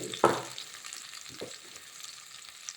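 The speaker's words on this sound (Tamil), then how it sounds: "இது நல்லா கொஞ்சம் வதங்கட்டும்" Onions sizzle steadily in hot oil in a pan on full flame, with a sharp stir at the start and a few soft scraping movements after, close and fairly quiet.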